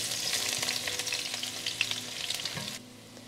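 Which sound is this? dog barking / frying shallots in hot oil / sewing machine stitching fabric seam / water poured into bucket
frying shallots in hot oil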